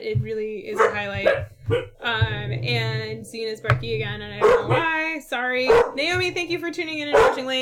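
Dogs bark in the background at a home board game session while people talk over them, the barks coming in short bursts beneath the steady conversation.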